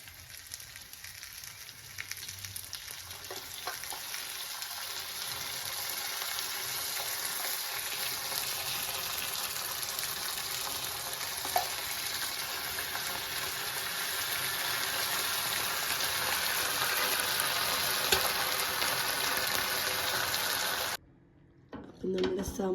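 Chicken frying in butter and a little oil for a creamy Iffa chicken recipe, a steady close sizzle that runs unbroken for about twenty seconds before cutting out near the end.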